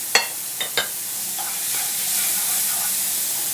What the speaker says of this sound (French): On va faire revenir les échalotes.